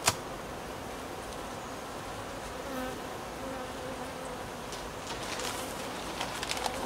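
Bees hum continuously around a hive during a honey harvest, a steady buzzing swarm with occasional louder passes near the end.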